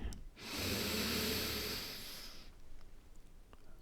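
A deep, slow inhalation during a guided sophrology relaxation exercise, drawn in as a steady airy rush for about two seconds before fading into quiet room tone.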